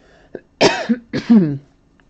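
Two close, harsh coughs in quick succession, loud and nearby, with a faint short sound just before them and quiet afterward.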